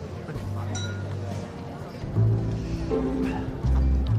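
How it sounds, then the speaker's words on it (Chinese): Glasses clink together in a toast at a group dinner: a few brief, bright chinks rising through overlapping voices and lively background sound. "来，干杯！"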